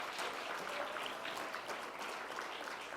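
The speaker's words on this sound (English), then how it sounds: "Give yourselves a massive round of applause." Audience applause at a gala dinner, a steady dense wash of many hands clapping at a distance, even and sustained throughout without voices.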